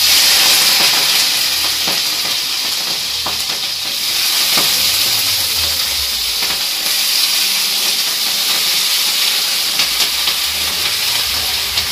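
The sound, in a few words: frying food in a pan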